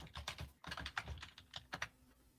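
Rapid typing on a computer keyboard, a close, quiet run of irregular key clicks in short bursts with a brief pause, no voices.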